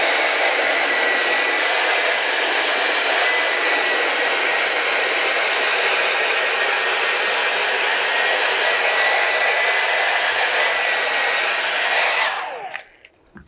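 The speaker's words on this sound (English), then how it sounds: "just run a hair dryer." A hair dryer blows hot air across the back of smart vinyl on its backing paper, a loud, steady whooshing roar that runs continuously before cutting off near the end.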